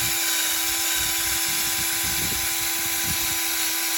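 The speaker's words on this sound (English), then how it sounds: "just spend a little bit of time with the drill and the wire wheel" A steady, loud electric drill whirs continuously with a gritty, scratchy edge as a wire wheel scours metal parts during an EGR valve replacement on a 2015 Renault Master 2.3 dCi van, with no talking.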